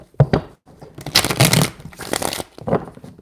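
Tarot cards are shuffled briskly in a few quick riffling bursts, close and crisp, with short pauses between.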